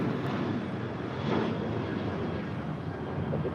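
A heavy cargo aircraft rolls down runway 25 Left at Los Angeles International Airport, heard as a steady, broad jet-engine roar at a moderate distance with no speech.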